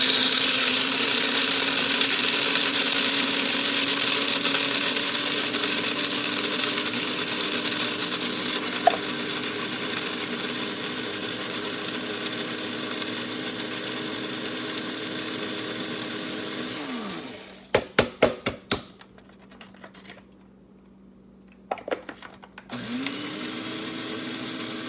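Electric grain grinder milling wheat berries for French boule flour, a loud steady whirring drone that runs alone for about seventeen seconds, winds down, then gives a few short clattering bursts before the motor spins up again.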